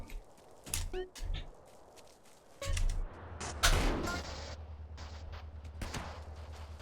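Scattered gunshots in the GTA video game, with a few sharp cracks early on and then a louder volley near the middle that fades into a steady background rumble. No one speaks.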